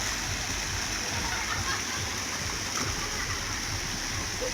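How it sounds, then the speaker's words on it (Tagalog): Water churns and splashes continuously as many people bathe, a dense wash of noise heard from a short distance with no clear voices on top. "Marami ding naliligo ngayon guys."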